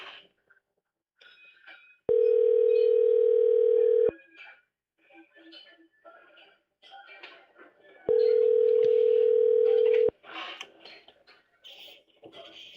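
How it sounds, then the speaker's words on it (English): Two long steady telephone ringback tones sound a few seconds apart on an outgoing call, loud and close, with quiet speech and small noises in the gaps. "We'll just call this number back that they called with."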